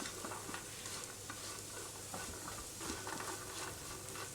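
Chopped raisins sizzle and fry in a pan for a shahi raita, with a steady close crackle and scraping stirring strokes, and no voices.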